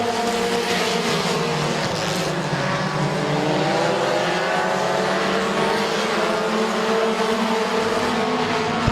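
Compact race cars racing at Midvale Speedway, a loud continuous roar of several engines at once with shifting pitch as the cars run close together through the turns.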